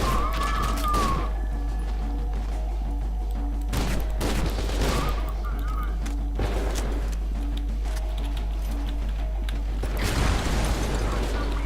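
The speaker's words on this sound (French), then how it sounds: "je vais faire un coup de lance-roquette à courte portée" Short-range rocket launcher fired in the video game FEAR 2: several sharp blasts with rumbling explosive tails spaced a few seconds apart, loud and close over a constant low game hum.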